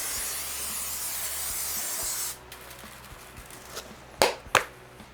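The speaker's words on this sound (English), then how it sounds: "Some more cooking spray." A steady hiss from a can of cooking spray for about two seconds, close up, followed by a couple of faint clicks and knocks.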